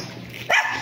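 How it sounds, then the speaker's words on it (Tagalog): A dog barks once in a street where people chat along the roadway, a single short, fairly close bark rising out of low background murmur. "Ayan ang mga aso."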